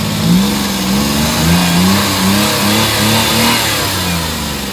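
A Suzuki mini van with a K6A engine, checked after an engine vibration fault was fixed, idles and revs up and down in smooth repeated swells, loud and close, with no talk.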